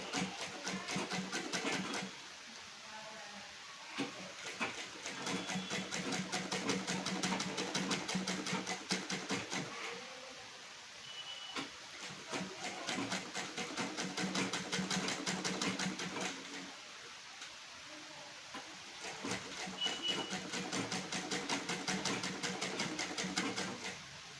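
A sewing machine runs in steady bursts while stitching a blouse with white thread before lace is attached, its motor whirring and needle chattering for several seconds at a time with brief pauses between runs.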